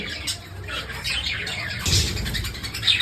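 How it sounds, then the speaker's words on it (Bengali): Pet birds squawk and chirp in a lively cluster at feeding time, close and fairly loud, with a brief murmur of voices mixed in. "পাখিদের সবাইকে খাবার দেবো"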